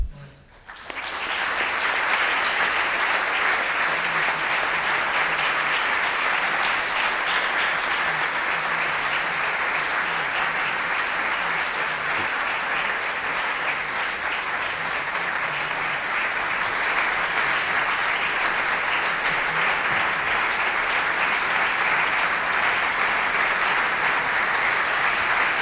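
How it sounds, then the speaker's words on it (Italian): An audience in Padua applauds at the end of a talk on religious freedom in Pakistan, a loud, dense and sustained ovation that fills the room for over twenty seconds with no voices over it. "l'applauso dice molto di più di qualsiasi"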